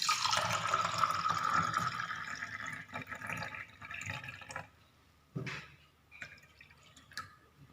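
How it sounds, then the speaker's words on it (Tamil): Freshly blended amla (gooseberry) juice being poured into a glass, a continuous close liquid pour that thins out into scattered drips and trickles toward the end. "இப்போ நெல்லிக்காய் ஜூஸை நம்ம ஊற்றிக்கலாம்."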